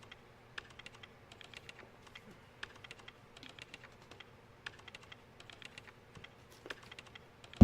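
Steady typing on a computer keyboard, with quiet, fairly regular clicks that run through the whole stretch and one sharper knock right at the end.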